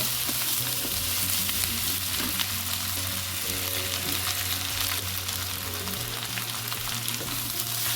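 Ginger-garlic and raw cumin paste frying in a pan over a clay stove, a steady close sizzle running throughout with faint stirring scrapes, no voices.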